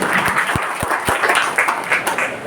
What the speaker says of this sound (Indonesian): Tepuk tangan buat Mas Rian.